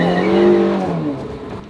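Ferrari convertible supercar engine hums smoothly and fairly softly while driving, a steady tonal drone that fades slightly over under two seconds, with no talk.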